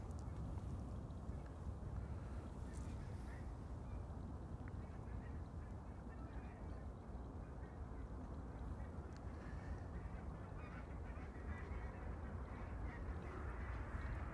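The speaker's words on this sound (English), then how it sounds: "I'm hearing geese, but they're flying right overhead." Geese honking as they fly overhead near Amsterdam Schiphol Airport, faint calls blended into a steady broadband airport rumble, with talk in the background.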